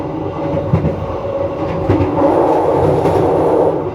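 Inside a passenger carriage of the KA Blambangan Express from Jakarta to Banyuwangi, a steady, loud rolling rumble carries through, with faint rhythmic clicks of wheels over rail joints.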